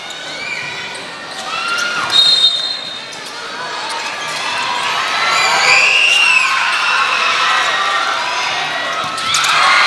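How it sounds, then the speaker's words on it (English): Crowd at a juniors semi-final men's basketball game cheers and whoops loudly, with shouts rising and falling over several seconds and a ball bouncing on the court. "give your loudest cheer, ladies and gentlemen"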